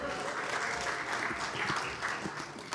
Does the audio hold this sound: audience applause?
yes